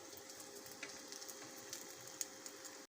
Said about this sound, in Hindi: इसी तरह हम दूसरों को फ्राई करेंगे